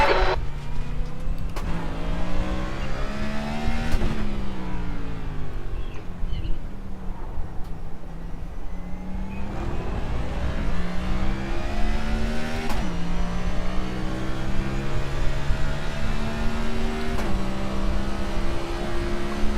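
A race car engine revs up through a 5-speed gearbox, its loud rising whine climbing and dropping with each gear change in repeated sweeps. A faint bird call sits in the background.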